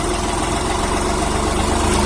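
A tractor engine idles with a low, steady rumble and faint vibration as it pulls away on a ramp, the throttle touched only lightly. The sound stays close and even throughout, with no one talking.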